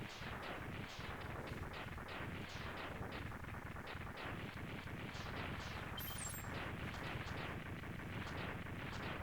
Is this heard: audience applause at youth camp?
no